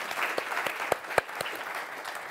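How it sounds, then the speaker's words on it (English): An audience at a Bitcoin panel applauds the panelists with a short, steady burst of dense clapping and a few sharper individual claps standing out. "I would like to give applause to our panelists for it."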